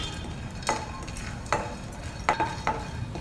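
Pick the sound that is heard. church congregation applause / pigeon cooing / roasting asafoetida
roasting asafoetida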